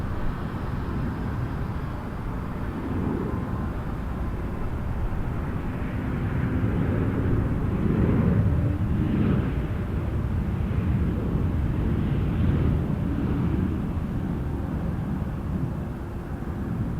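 A WestJet airliner at Toronto Pearson Airport produces a steady, distant jet roar that swells slightly midway and then holds, a broad rumbling wash with no voices.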